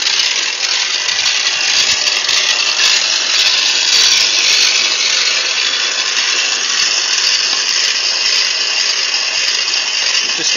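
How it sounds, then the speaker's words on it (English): A loud electric drive motor on a chain-driven pig spit roast runs continuously with a harsh high whine and steady mechanical buzz, no pauses or talk. "and that's the drive motor down here."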